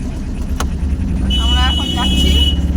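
A car drives along a road with a continuous low engine and road rumble. Brief horn-like tones sound in the distance partway through.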